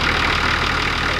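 A 4WD's engine idles steadily after being started on the Napoleon Hill 4WD track, a continuous close rumble with no talk over it.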